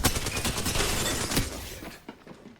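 Gunfire amid a loud, dense burst of shots and crashing impacts, a continuous chaotic barrage that peaks midway and then tapers into scattered, fainter hits.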